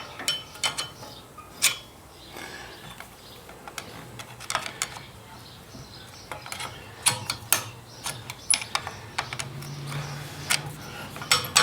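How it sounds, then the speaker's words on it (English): Screwdriver prying a brake pad against the rotor on a 2012 Harley-Davidson Sportster 72, a close, quiet series of irregular metallic clicks, scrapes and ticks as the pad shifts. "taking a screwdriver, putting it in between the brake pad and the rotor, and prying against the brake pad"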